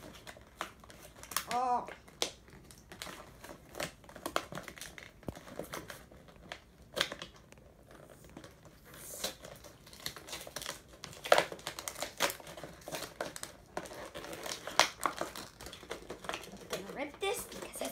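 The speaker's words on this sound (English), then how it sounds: "Rip this because it's hard to open." A toy package is being ripped open, with crinkly tearing and plastic crackle in short uneven bursts close up, while a person talks now and then.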